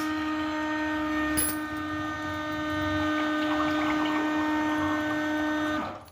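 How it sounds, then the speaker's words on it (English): Water runs through the pipes of a Kangen Enagic water machine during e-cleaning, a steady humming pump tone with a gurgling flow that cuts off at the end. "we will just switch on the water and let the water cover the mouth of the pipes"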